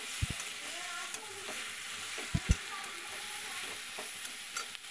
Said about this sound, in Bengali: আর একটু নেড়ে নেব।